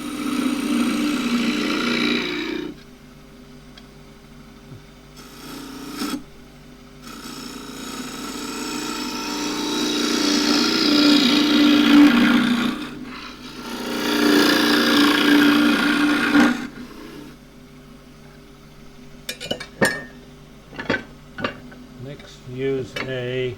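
A bowl gouge cuts a small pot of green elm on a wood lathe in bursts of rough scraping and hissing, separated by quieter pauses, with a few sharp knocks near the end and someone talking between cuts.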